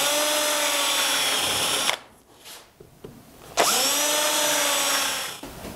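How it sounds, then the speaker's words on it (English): A power drill bores through wood and acrylic for an art clock, whining loudly in two long bursts with a short pause between them as the motor spins down and starts up again. "drill all the way through."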